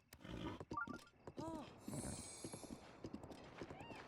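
Video game horse sounds: clip-clopping hooves and a short whinny, fairly quiet, with a person talking over them throughout.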